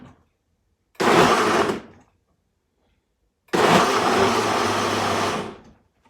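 A kitchen blender pulses vegetables for split pea soup at about speed six in two loud bursts, a short whir followed by a longer sustained one, with quiet gaps between and no voices.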